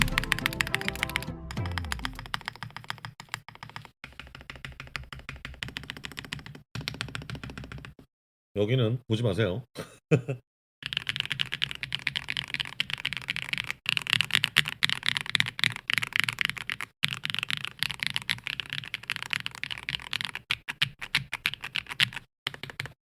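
Continuous typing on a Neo98 mechanical keyboard, dense close-up clacking keystrokes in quick irregular runs with a few brief pauses, with a short spoken remark partway through.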